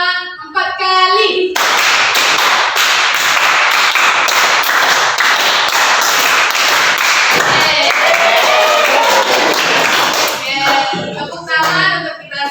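Students in a classroom clap a patterned sequence of handclaps, loud and dense with rhythmic groupings for about nine seconds, with a teacher's voice briefly before and after.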